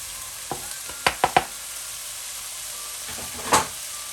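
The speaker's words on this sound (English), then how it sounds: "And give a quick mix and stir" Vegetables and mushrooms stir-fry in a pan with a soft steady sizzle, broken by a few sharp scrapes and knocks of a utensil near the start and again toward the end.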